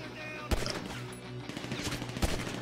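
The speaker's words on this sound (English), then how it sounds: "he's shooting at me" Rapid gunfire crackles in GTA V survival mode, a dense burst of automatic shots with a couple of sharper close bangs standing out above a continuous hum of game sound.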